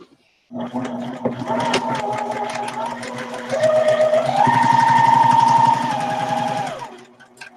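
Domestic sewing machine stitching a quilt at a 2.5 stitch length, running in a steady rapid motor whir close by, rising in pitch and loudness midway as it speeds up before slowing to a stop.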